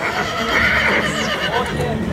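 A horse at a horse fair in Bucovina neighs loudly nearby, with hoof clops and people talking underneath.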